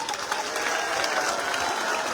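A crowd at an outdoor political rally speech in Alwar claps continuously, a dense, loud wash of applause sustained for about two seconds.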